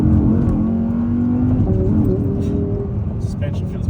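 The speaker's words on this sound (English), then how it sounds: "This is honestly one of the more tricky cars to drive sideways." An Audi being driven sideways in a drift, its engine droning and revving loudly and steadily throughout, with someone talking over it.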